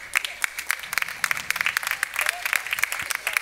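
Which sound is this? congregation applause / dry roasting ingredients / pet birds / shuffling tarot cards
congregation applause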